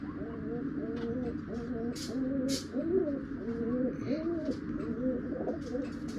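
A pair of red Chinese pigeons, male and female, coo repeatedly in low, rolling phrases close by, with occasional faint chirps and rustles in the background.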